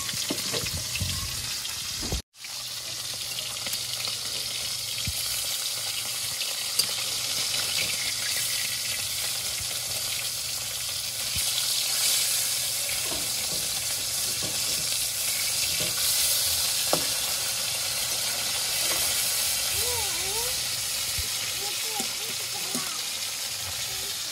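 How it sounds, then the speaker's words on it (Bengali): Tilapia fish fries in hot oil, a steady, moderately loud sizzle lasting throughout with a brief dropout near the start and occasional faint pops. "তেলাপিয়া মাছ ভাজা হয়ে গেছে, এগুলো ভেজে দিচ্ছি।"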